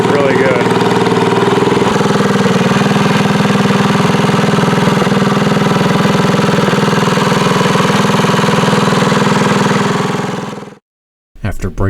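A Tillotson 212 engine fitted to a Trailmaster MB200 minibike runs loud and close at a steady, even idle for about ten seconds, then shuts off abruptly into silence.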